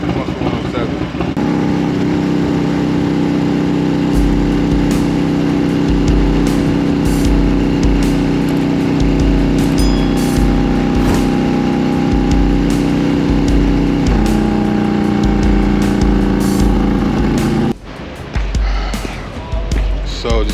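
A Harley-Davidson motorcycle engine drones steadily during a highway ride, a loud low rumble with a sustained tone that shifts pitch partway through, likely a gear change, before dropping off near the end, with wind noise over it.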